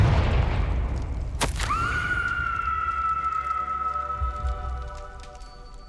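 A Confringo blast spell in Hogwarts Legacy: one loud, sharp burst cracks out after a noisy opening, then a long ringing magical tone sustains and fades slowly beneath a low rumble.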